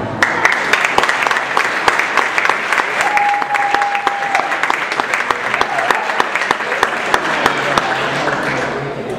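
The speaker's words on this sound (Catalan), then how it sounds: "Aplaudiment per la Sílvia." Sustained applause from an audience at the Ciutat de Figueres award ceremony honouring Sílvia Fernández, many hands clapping steadily and densely for about nine seconds, loud and even throughout, with a brief thin tone partway through.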